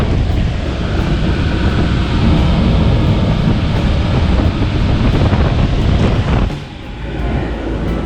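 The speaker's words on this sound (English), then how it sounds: "Don't mind the wind." Strong outdoor wind buffets the microphone in a loud, rumbling, continuous roar near an HVAC unit, easing briefly near the end; no talking.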